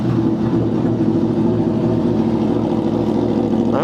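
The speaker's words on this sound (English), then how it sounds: "Yes, the bike is a little warmed up now, so maybe it does sound a little lower in tone" A warmed-up motorcycle sits at a standstill with its engine running, the exhaust close by, giving a steady, loud, low rumbling drone that holds evenly throughout.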